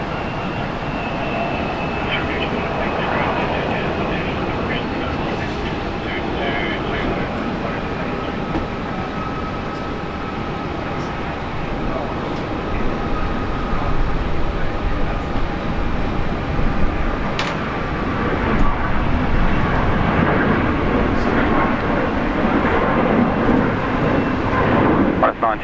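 A Boeing 737 MAX 8 airliner takes off at Brisbane International Airport with a loud, steady jet roar that swells and grows stronger toward the end, heard from the field.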